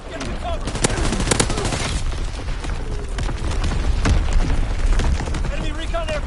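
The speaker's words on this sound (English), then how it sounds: "Incoming enemy artillery." Incoming enemy artillery fire in a video game: dense bursts of gunfire and booming impacts rattle continuously, loud and close, with a voice speaking over the chaos.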